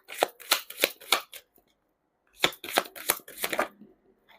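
Tarot cards being shuffled by hand in two bursts, each a run of quick, crisp riffling snaps separated by about a second of silence, close and clear.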